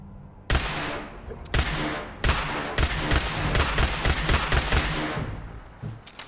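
Gunfire in Fallout 4 with Sim Settlements 2, shots from a weapon loaded with bad ammo: loud, close, sharp reports in an irregular burst of about a dozen, some single, some in quick succession, with no talking.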